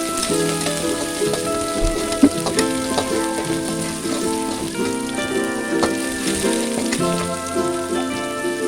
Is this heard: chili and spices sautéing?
yes